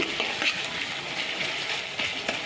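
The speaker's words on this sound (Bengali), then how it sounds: "ঠিক আদা রসুন বাটা গন্ধটা চলে যাওয়ার মতো এটা ভেজে নিতে হবে" Ginger-garlic paste frying in a pan for a kachki fish curry, a soft steady sizzle with faint crackles and occasional stirring, quiet and close.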